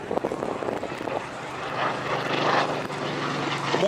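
A World War II propeller warplane flies past at an airshow, its engine a steady, fairly close drone that rises slightly in loudness toward the end, with no talk over it.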